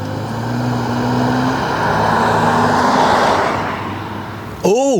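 A Lamborghini Evo Spider rear-wheel-drive supercar drives on the road with a steady engine drone that swells and shifts, loud and close, before a sharp rising note at the end.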